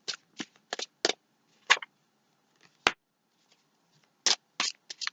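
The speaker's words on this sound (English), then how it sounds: "I don't even know why I'm shuffling" Tarot cards shuffled by hand in short crisp bursts of riffling and slapping, separated by brief pauses, close and fairly quiet.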